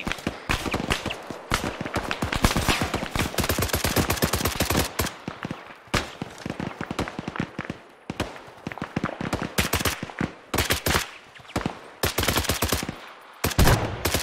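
Sustained machine gun fire in ARMA 3, long rapid bursts of loud close shots with brief pauses between strings.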